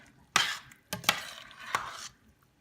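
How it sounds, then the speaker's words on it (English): Sausage cooking in a pan with okra and tomatoes, with a soft sizzle and a few distinct clinks and scrapes of a utensil against the pan, close and quiet, without speech. "I've just added our sausage. This is just cooking away."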